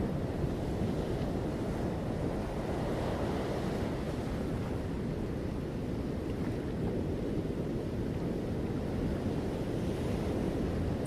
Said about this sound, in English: Feeling the sound of the waves once again